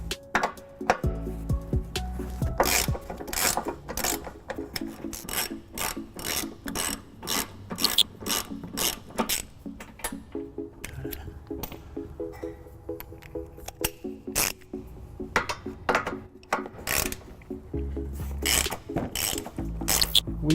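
A socket ratchet clicks rapidly and repeatedly while 18mm and 15mm bolts are backed out of a 2008 Dodge Grand Caravan frame, with bursts of sharp ratcheting, short pauses and occasional metallic knocks, close and fairly loud.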